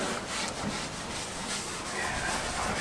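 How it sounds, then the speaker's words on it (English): An old car being rubbed down by hand with a rag soaked in boiled linseed oil gives a steady, close scrubbing and rubbing noise that carries on without a break and without talk. "Once the rag is a bit oily, it's just elbow grease really thereafter."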